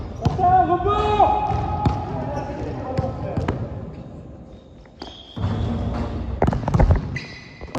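A basketball bounces on an indoor court in a series of sharp, irregular thumps, some loud and close, mixed with sneaker squeaks and people talking throughout.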